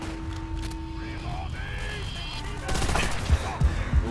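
Rapid bursts of MG42 machine gun fire in Call of Duty: World at War, fired in a sustained volley near the end over game music and effects; someone talks briefly over it.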